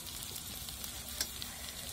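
Onion, green chilli and finely chopped coriander sauté in oil on a wood-fired clay stove while making smoky green-chilli brinjal bharit, giving a steady close sizzle with a few light stirring clicks and no talk.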